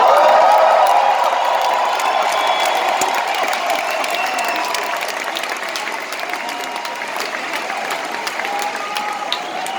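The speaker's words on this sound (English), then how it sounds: "you clap because I'm still alive or because I can still get into my costumes" A large concert crowd at a show in Antwerp applauds in a dense, continuous wash of clapping that stays loud throughout and fades slightly toward the end.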